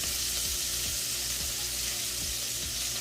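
Shrimp and sausage sizzle in a pan with a loud, dense, unbroken hiss close by, along with faint soft rhythmic knocks underneath.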